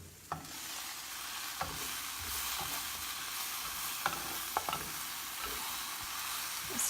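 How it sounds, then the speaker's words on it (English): Vegetables for an asparagus, spinach and arugula lasagna stirred in a pan: a constant low sizzle broken by scattered spatula scrapes and taps against the pan, close by, with no voices. "Stir those in a little more."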